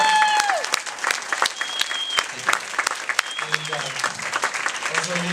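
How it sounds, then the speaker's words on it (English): Applause breaks out for a speaker at a public library talk, scattered hand claps from a modest audience, moderately loud and uneven, with some murmuring voices underneath. "Let's give him a big round of applause."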